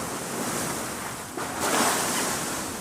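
Rough ocean surf roars steadily with wind buffeting the microphone on a boat near Crooked Island, swelling a little louder partway through; no voices.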